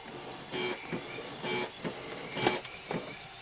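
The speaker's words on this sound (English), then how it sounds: "My printer is making weird noises." A home printer makes weird mechanical noises, repeated whirring and grinding pulses with faint high whines, rising and falling in uneven bursts at moderate volume.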